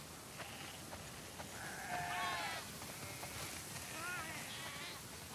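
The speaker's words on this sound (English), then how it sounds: "Wow, that's a lot of sheep." Sheep bleat in The Last of Us 2 video game, several overlapping, wavering calls from a flock at moderate distance, rising and falling over a soft ambient background with faint talk mixed in.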